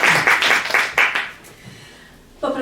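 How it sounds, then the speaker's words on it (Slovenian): A short burst of applause from a small audience at a Slovenian book event on logotherapy, fairly close and brief, dying away after about a second and a half before a voice returns. "en aplavz"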